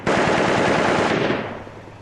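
Fireworks going off at a New Year's display, a dense, loud crackling barrage like rapid gunfire that fills the clip and eases slightly toward the end.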